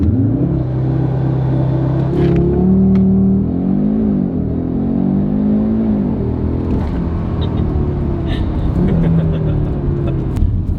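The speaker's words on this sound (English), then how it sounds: "of course, we got to quickly do one launch control." Audi RS3 with a 5-inch air intake performing a launch control start: a loud, close engine roar swells and revs, holding a heavy rumble with rising and falling pitch throughout.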